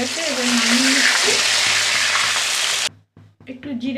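Rohu fish frying in hot oil makes a loud, dense, continuous sizzle that cuts off abruptly near the end, leaving brief quieter stirring and faint voice-like sounds.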